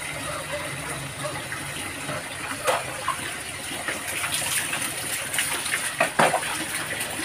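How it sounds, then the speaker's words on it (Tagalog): Water runs steadily from a tap for an outdoor bath in the rain, a continuous moderate splashing rush with a few sharper splashes, while people talk faintly nearby. "Ipatay mo na yung tubig mo muna."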